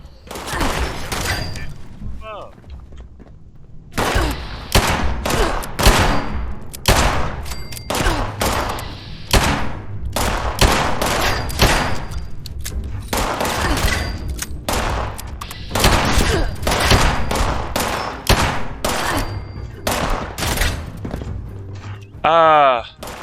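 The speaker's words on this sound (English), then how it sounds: "What the hell's shooting at me from above?" Gunfire from above in Fallout 76 crackles in long, dense runs of rapid shots with short pauses between bursts, loud and close, with a few footsteps underneath.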